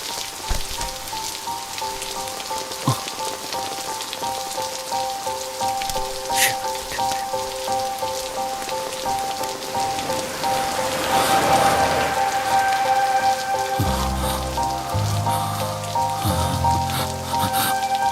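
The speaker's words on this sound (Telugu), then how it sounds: "ఈ విధంగా వర్షంలో తడవడం" Rain patters steadily on a surface, a constant close hiss of drops with occasional louder splashes and a low rumble toward the end.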